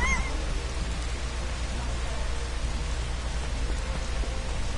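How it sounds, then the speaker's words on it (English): Rainfall in a video game, a steady, dense hiss of falling rain that stays loud and even from start to finish, with no voices over it. "now it's raining."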